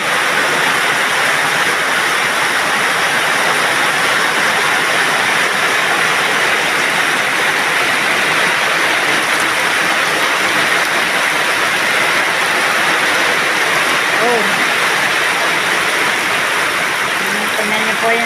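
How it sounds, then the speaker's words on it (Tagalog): Strong floodwater rushes over a road in a steady, loud broadband roar that fills the whole stretch, with one brief spoken exclamation near the start. "Tingnan niyo po yung daan, oh. Lakas ng tubig, oh."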